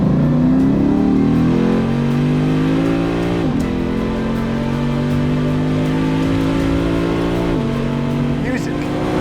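A 2021 Lexus RC F Track Edition's non-turbocharged engine revs up loud and close, climbing in a few rising pulls with brief dips between shifts.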